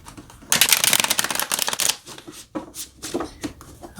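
Tarot cards are shuffled in quick riffling bursts, a dense rapid flutter that loosens into separate slaps and taps near the end, close and clear with no talking.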